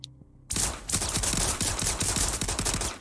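After a brief quiet moment, a sustained volley of rapid gunfire erupts in a video game, loud and close, with repeated sharp shots rattling on continuously.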